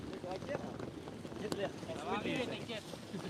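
Gusting wind buffets the microphone with a steady rumbling roar, while voices talk and shout over it at a windsurfing race on the water.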